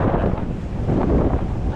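Steady wind roars across the microphone at sea on a windy day of sheepshead fishing, a dense buffeting rush with a low water-like rumble beneath and no voices.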